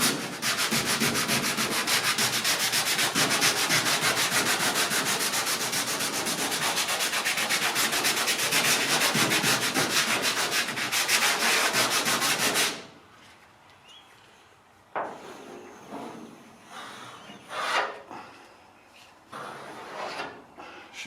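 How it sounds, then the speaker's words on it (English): Coarse 60 grit sandpaper is rubbed hard across a Ford Fairlane's car body, making a continuous, close, harsh scratching hiss for about twelve seconds, then stopping, followed by a few quieter scattered rubs and knocks. "scratching with a 60 grit, just to give it something to adhere to"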